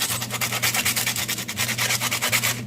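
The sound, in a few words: rubbing rough husk of citronella stalk smooth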